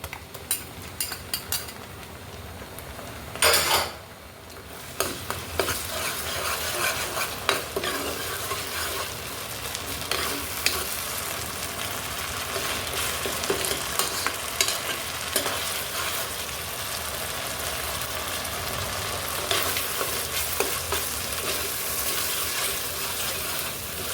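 Ginger paste and garlic paste fry in a pan for chana masala, giving a steady, loud sizzle with scraping stirring throughout and a short dip in the hiss near the start.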